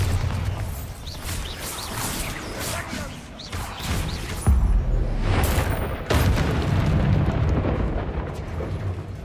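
A Bombarda spell explodes in Hogwarts Legacy with deep booming blasts and crashes at about 4.5 and 6 seconds, set against steady game ambience and rumble.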